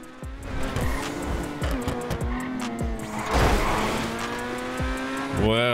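A Mustang SVT in GTA Online revs hard and accelerates, the engine note climbing through gear changes with tire squeal and a surge of noise midway, close and loud, with occasional voice in the background.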